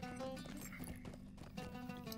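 Horse hooves clip-clop at a steady riding pace in Lord of the Rings Online, faint and rhythmic beneath layered game music and ambience.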